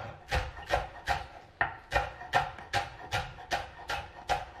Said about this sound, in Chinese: 切点小葱花，